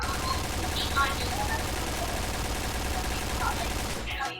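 Rapid AUG A3 rifle fire in the video game Point Blank, a dense, steady stream of automatic shots running for several seconds and ending abruptly, close and loud.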